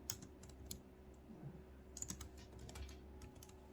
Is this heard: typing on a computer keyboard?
yes